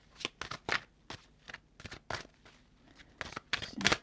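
Tarot cards are shuffled and drawn, giving quick close riffles and papery flicks in an irregular rhythm of short bursts, soft and with no talk.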